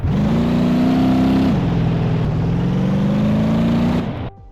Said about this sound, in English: the engine sounds of most vehicles are not exactly brilliant